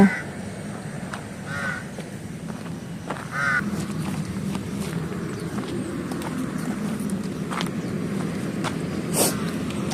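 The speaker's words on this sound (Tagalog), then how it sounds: "may uwak." Crow cawing outdoors at a golf course, several short harsh calls at moderate distance over steady outdoor background with faint footsteps.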